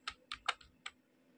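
Four quiet, separate keystrokes on a computer keyboard while C code is typed, close but soft, with short irregular gaps and silence afterward.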